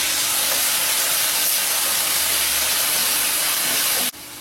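Tomatoes sauté in a pan for a spicy onion tomato curry, giving a loud, steady hiss of frying that runs unbroken up close and then cuts off abruptly near the end, with no voices.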